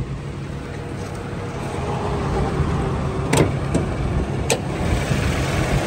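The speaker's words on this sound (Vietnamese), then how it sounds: "mở cái capo cho anh em mình xem và nghe tiếng máy của xe nha." A 2010 Toyota Innova engine idles close by under an open hood, a low continuous rumble with a few sharp clicks or taps near the end.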